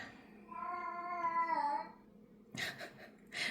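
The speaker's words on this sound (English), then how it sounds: "We have a very loud cat" A cat lets out one long, loud, drawn-out meow, followed by a few short rustling noises.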